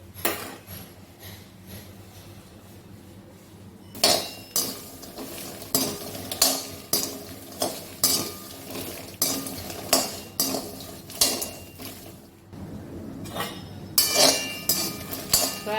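Jackfruit seeds and rice dry-frying in a pan, stirred with a utensil that scrapes and clinks in bursts of rhythmic clatter, close and moderately loud.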